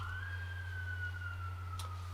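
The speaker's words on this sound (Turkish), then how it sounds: "bu ambulans ya da itfaiye olabilir." An ambulance or fire engine siren passes outside, heard as a faint, steady, sustained wail through the whole stretch over a constant low electrical hum.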